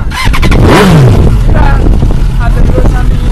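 A loud, throaty 2005 GSX-R1000 motorcycle engine with a Yoshimura exhaust blips and revs close by, its deep exhaust roaring with sharp bursts and a quick pitch sweep.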